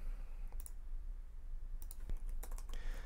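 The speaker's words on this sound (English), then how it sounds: "let's type this code" Code being typed on a computer keyboard, a few quick bursts of light clicking keystrokes separated by short pauses, close and fairly quiet, with no talk.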